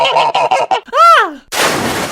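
Geese honk at a goose pond in a rapid run of short nasal calls, then one long rising-and-falling honk, close and loud, before a burst of splashing noise takes over.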